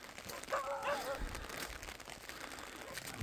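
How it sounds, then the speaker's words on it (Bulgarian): Dogs bark at a rural landfill near the village of Granitsa in Kyustendil province, a short burst of a few yaps and woofs heard at a moderate distance over outdoor ambience. "Някакви кучета да ме нападнат."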